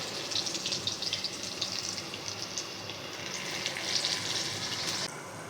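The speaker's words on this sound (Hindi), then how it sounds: "ये देखें, ये थोड़ी देर हम फ्राई करेंगे" Okra pieces fry in hot oil for crispy bhindi, a close, even sizzle with bright crackling bursts and no voices.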